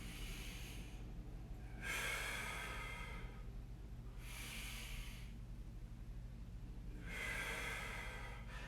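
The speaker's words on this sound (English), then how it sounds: "So we're going to breathe in as we turn in." Deep, slow breathing during a hip, psoas and quad mobility stretch, with four long airy breaths alternating between inhales and exhales, each lasting over a second, heard close and quiet with nobody talking.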